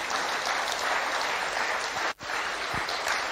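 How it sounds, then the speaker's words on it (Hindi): A gathered audience claps in a steady, even patter of many hands, moderately loud, with one brief dip partway through before the clapping resumes. "ये आप तब तक ताली बजाइए"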